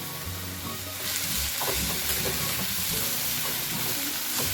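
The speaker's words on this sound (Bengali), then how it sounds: "এবার একটু নেড়ে দিই।" Spices sizzle and fry in a hot pan as they are stirred, a loud steady crackle with scraping stir strokes layered on top, close and alone.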